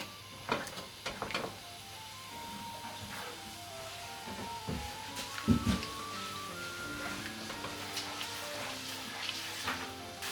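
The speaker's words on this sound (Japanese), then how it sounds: "火にかけてキノコの旨味を落とすようにゴムベラで混ぜていきます。" Mushrooms with garlic and chili are stirred with a rubber spatula in a pan over heat, giving a quiet sizzle with soft scraping and a few light knocks against the pan.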